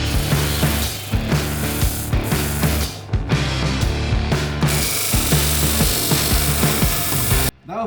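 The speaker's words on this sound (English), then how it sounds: "Therefore, I use our disc sander." A disc sander grinds a wood block and G10 flat, a steady loud motor whine with repeated rasping bursts as the workpieces are pressed against the disc, ending in a brief cutoff.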